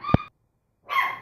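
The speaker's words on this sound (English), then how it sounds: "Excuse my puppy, sorry about that." A puppy lets out one sharp, close bark, then a short gap, then a longer whiny yelp. Both sounds come through clearly indoors with no talking over them.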